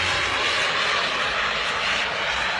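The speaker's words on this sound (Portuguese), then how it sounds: "Você já assiste a velocidade de avião, jato, olha, vai vendo." Jet aircraft engine in flight gives a loud, steady, broad roar with a hissing edge, close and unbroken throughout, with no voices over it.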